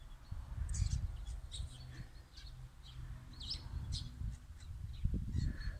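Assorted local birds, crows among them, call and chirp in scattered short bursts over a steady low outdoor rumble, fairly distant and moderately faint, with no talking.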